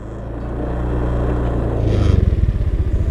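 A scooter engine idles and then swells louder as the throttle is twisted, ending in a close, pulsing, rough revving.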